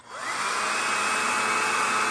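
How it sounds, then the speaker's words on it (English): A handheld blow dryer switches on and runs steadily, blowing hot air onto the beard of a Santa figure; a loud, close, continuous whirring rush with no voices. "what we want to do is get out our blow dryer"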